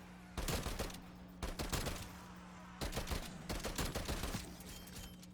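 Call of Duty Black Ops SMG gunfire comes in four separate quick bursts of rapid shots, each lasting around half a second, with short pauses between them over a low steady hum.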